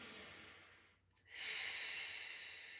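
A person breathes in through the nose during a Pilates exercise, a steady close hiss of air that briefly drops away and then returns stronger and sustained, with no talking.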